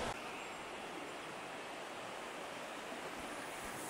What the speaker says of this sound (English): This is a tiny little river, creek, stream, whatever you want to call it.